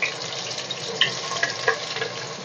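Green chillies and onions fry in hot oil with a steady, close sizzle and a few small pops and crackles.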